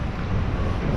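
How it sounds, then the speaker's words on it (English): Steady wind at the St. John's harbourfront rumbles and buffets the microphone in a close, continuous roar with no pauses. "I probably won't be able to talk much because the wind is just going to cancel everything out"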